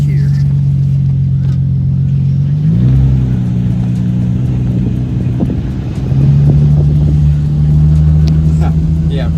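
Vaydor G35 exotic supercar engine idling and rumbling at low speed through a neighborhood, a steady loud drone with a brief rise in pitch and engine note shifting as it creeps along, a voice talking over it.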